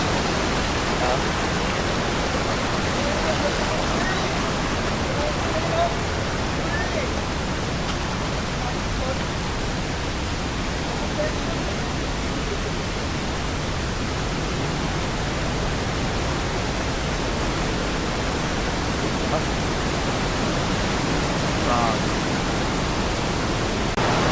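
Kanapsan Falls roars with rushing water, a dense, steady broadband wash that stays loud and unbroken throughout, with no break in the flow.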